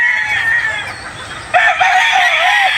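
A gamefowl stag rooster crows close by, a loud drawn-out crow breaking in about halfway through after softer clucking and farm background.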